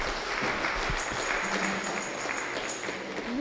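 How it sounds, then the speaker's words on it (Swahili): Congregation clapping during a Kikuyu Trinity Sunday church service, welcoming a young man bringing his wife forward; steady moderate applause from a crowd throughout, somewhat distant. "tumpigie huyo kijana makofi akileta the wife"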